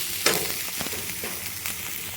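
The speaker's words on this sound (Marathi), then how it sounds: "असं छान भाजून घ्या बघा तेल खूप कमी वापरलं" Onion frying in a small amount of oil, a steady close sizzle with a few scraping stirs of a spatula in the pan, no voices.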